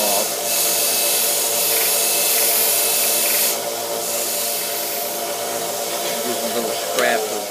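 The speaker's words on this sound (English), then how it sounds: "So we'll use our belt sander to round them off." A belt sander rounds off cut battery terminal end pieces for a homemade Z-1 battery, giving a steady, loud abrasive whir with a brief change in tone partway through.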